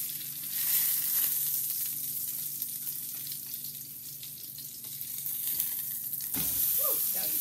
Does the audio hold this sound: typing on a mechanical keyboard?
no